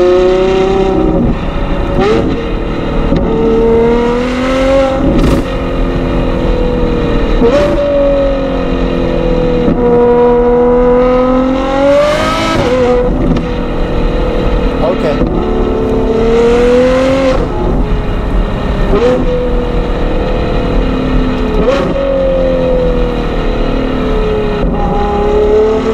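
A Ferrari 812 GTS V12 fitted with a Novitec exhaust revs loudly and repeatedly, each blip rising to a sharp scream and falling back to a rumbling idle, close by with no talking.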